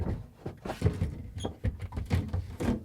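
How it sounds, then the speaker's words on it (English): A shelf goes back into a Whirlpool, KitchenAid or Maytag refrigerator with a series of close plastic thunks, knocks and scrapes over a few seconds. "And now I'm going to place the shelf back."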